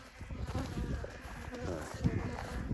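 A honeybee colony takes to the air after being moved to a new spot while fixing a drone-laying hive, giving a dense, close buzzing swarm hum with some low handling noise and a faint voice.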